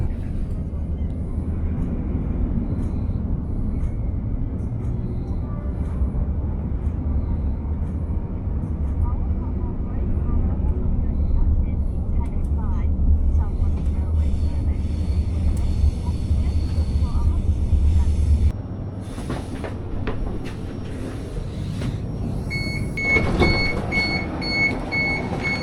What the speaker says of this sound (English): we're on our way now on the fast train